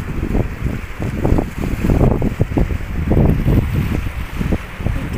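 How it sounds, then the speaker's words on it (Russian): Small sea waves lapping and splashing in an irregular rhythm, close by, with gusty wind noise over the water, in Mersin. "Морешко было спокойно, а сейчас чуть-чуть волны"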